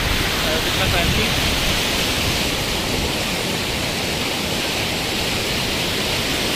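River water rushes steadily through Swat Valley, a loud, unbroken broadband roar close by with no pauses or changes across the stretch.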